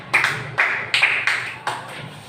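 Children applauding in a classroom as praise for a classmate's correct answer, a few short bursts of clapping in quick succession, close and moderately loud.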